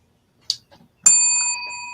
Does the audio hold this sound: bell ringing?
yes